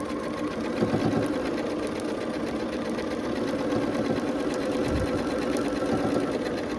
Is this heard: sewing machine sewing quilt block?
yes